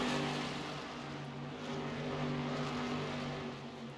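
Race cars in a sim racing game circling the track during a stock car event, a steady layered engine drone with several tonal whines holding pitch, continuous and fairly full throughout.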